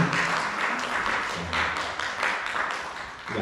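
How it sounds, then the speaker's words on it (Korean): Church congregation applauding after a praise and worship set, a steady wash of many hands clapping at moderate distance, fairly soft overall with a few louder bursts. "우리 다시 한번 큰 박수로 하나님께 영광 드리도록 하겠습니다."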